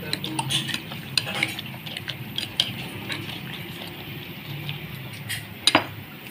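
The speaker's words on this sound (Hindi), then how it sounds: "और अब हम इसको जो है वो बीट कर लेंगे।" Eggs and omelette ingredients are beaten in a bowl with a utensil, making quick, irregular clinks and taps close by over a faint background hiss.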